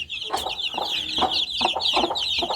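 A hen clucks in short, repeated bursts, calling her chicks, over a steady high-pitched chirping of chicks, close by and fairly loud.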